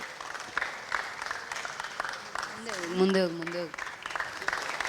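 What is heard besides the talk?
audience applause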